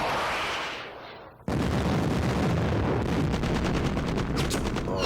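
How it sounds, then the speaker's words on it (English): Artillery fire in the Modern Campaigns Middle East 67 wargame: a fading rumble, then after a short gap a loud, sustained barrage of booming blasts with rapid crackling shots layered in, close and continuous to the end. "our artillery is working as well"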